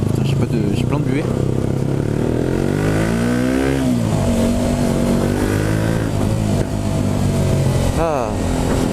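A four-stroke motorcycle engine revs up and down with a rising, falling pitch, running loud and steady throughout with no pauses.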